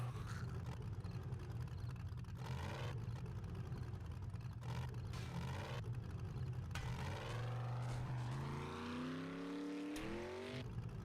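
A video game car engine runs steadily and loud throughout, with rising harmonic sweeps as it revs and accelerates near the end, holding a strong low drone without pause.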